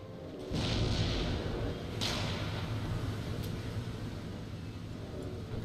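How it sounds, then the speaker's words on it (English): Cannon fire in Empire: Total War, a series of dull distant booms and thuds rolling over a steady battlefield din, with sharper reports spaced a second or so apart. "My cannons are continuing to harass them."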